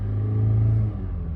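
A car engine cranks over and revs up, a loud, steady close rumble that holds for about a second before easing slightly.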